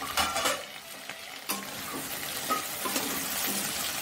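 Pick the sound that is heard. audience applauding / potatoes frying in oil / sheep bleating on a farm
potatoes frying in oil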